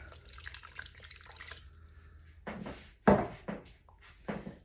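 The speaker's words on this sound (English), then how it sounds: "And a little bit of water." Water runs from a tap and splashes into a slow cooker in a home kitchen, coming in a few short, close pours with sputtering bursts after a quieter stretch.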